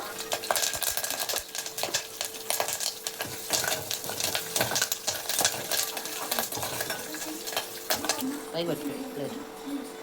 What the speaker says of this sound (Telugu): కొంచెం వేసిన తర్వాత కరివేపాకు వేసుకోవాలి. కరివేపాకు వేగిన తర్వాత